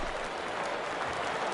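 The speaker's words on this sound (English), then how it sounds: "he is into third with a leadoff triple. And the home crowd is absolutely eating this up." Home crowd in MLB 19 roaring and applauding after a leadoff triple, a dense, steady wash of cheering and clapping with no break.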